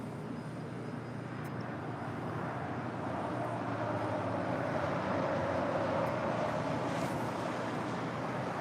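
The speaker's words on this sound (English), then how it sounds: "That is Japan Airlines Flight 16 coming in from Tokyo Haneda at 777-300ER heading to the gates of Tom Bradley" A Japan Airlines Boeing 777-300ER arriving at Los Angeles International Airport from Tokyo Haneda, heard as a steady broad jet roar from a moderate distance, unbroken and without talking.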